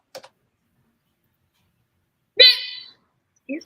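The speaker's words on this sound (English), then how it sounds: "The hiccup. That sounded weird." A single sharp hiccup bursts out loud and close mid-conversation, preceded by a couple of faint clicks and followed by a brief start of speech.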